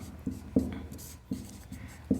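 Chalk or a marker writing on a board during a maths lesson, soft scratchy strokes with a few distinct taps, close and fairly quiet.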